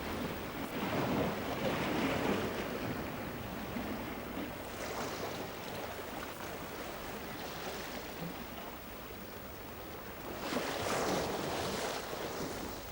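Sea waves wash onto a sandy shore lined with algae, a continuous rushing surf with wind that swells louder early on and again near the end, no voices present.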